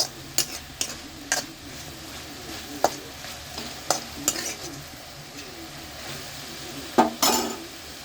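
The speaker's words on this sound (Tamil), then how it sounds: "நல்லா கறிக்கலாம்." Sliced raw plantain stir-fry frying in a pan: a steady soft sizzle runs throughout, broken by sharp scrapes and clinks as a spatula stirs against the metal every second or so. No one speaks.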